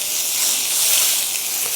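Burgers sizzle on a Chud press griddle heated to around 600 degrees after a spray of fat, a steady close bright hiss with no talk.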